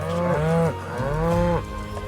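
Cattle in Final Fantasy VII Rebirth let out two drawn-out moos, one right after the other, close and loud, with no talking over them.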